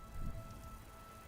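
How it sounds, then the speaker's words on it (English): Rain falls in Minecraft, a steady soft hiss of raindrops with a low rumble swelling briefly at the start, faint and continuous with no voices. "I'm just gonna pray that it doesn't keep raining after this."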